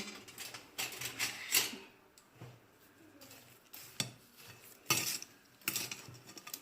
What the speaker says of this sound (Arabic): غنضيف الساشيه ديال الفاني، وغادي نحرك الخليط ديالي مزيان